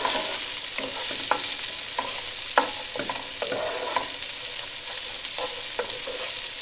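Chopped onion, garlic and ginger sauté in a pan for aloo gobi, giving a steady close sizzle broken by repeated scraping stir strokes.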